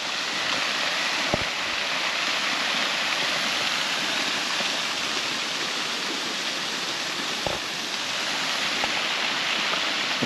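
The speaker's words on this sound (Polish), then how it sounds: "tuż przy tym budynku mamy strumyk" A mountain stream runs beside a building on the slope of Żar in the Beskid Mały range, a steady, even rush of flowing water heard close and continuous, with a couple of faint knocks and no talking.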